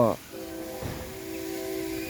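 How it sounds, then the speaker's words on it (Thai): A train horn sounds from the distance near a house, a steady tonal blast that holds for well over a second at a moderate level beneath a faint background hiss. "อันนั้นรถไฟนะครับบีบแต่อยู่นู่นรถไฟ"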